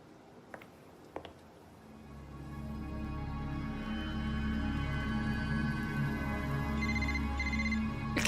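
A phone rings in the Honkai: Star Rail video game, a steady electronic ringtone with repeating bright tones that swells over a low sustained music bed after a few soft clicks, with no talking.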